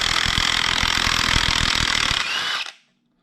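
A Ryobi 1/2 inch impact wrench runs close and loud with a dense rapid hammering rattle and bright whine for over two seconds, then winds down and cuts off abruptly.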